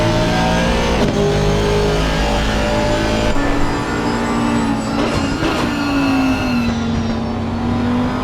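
Audi GT3 race cars lapping Imola in a sim racing game, engines droning loud and steady with rising and falling revs and a sustained gear whine, no talk over them.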